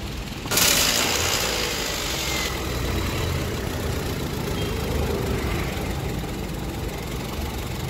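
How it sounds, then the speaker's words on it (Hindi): A Toyota Etios petrol engine, previously misfiring, idles steadily nearby with a low, even rumble, a brief hiss near the start, no voices. "इंजन का साउंड बहुत अच्छा है भाई"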